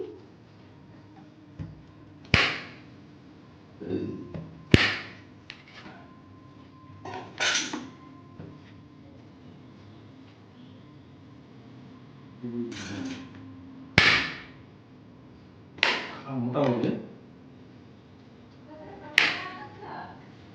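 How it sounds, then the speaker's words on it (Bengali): A knife slices peeled raw potatoes into long, medium-thick strips on a cutting surface, giving close, sharp knocks spaced irregularly, about ten strikes with short pauses between them. "এবার আমি আলুগুলো কেটে নিচ্ছি।"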